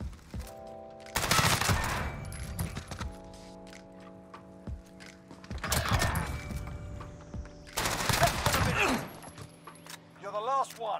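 Short bursts of Mini MP5 gunfire in a video game, three loud clusters of rapid shots spaced a few seconds apart, with game sounds and tones between them.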